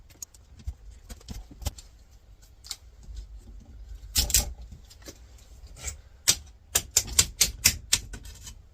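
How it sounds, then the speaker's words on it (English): Someone cleans a part from an Apple iMac G3 while checking for hidden screws, producing scattered sharp clicks and taps that come closer together near the end, with a brief scuffling rustle in between, up close with no talking. "Just cleaning this piece up to see if there's any screws that are hiding."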